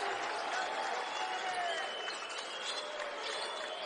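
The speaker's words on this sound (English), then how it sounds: "listen to this crowd. They're on their feet with still 7 minutes to go in the title" A college basketball arena crowd at the St. Bonaventure versus Marquette title game roars steadily on its feet, a continuous, fairly faint wash of cheering and applause with no distinct breaks.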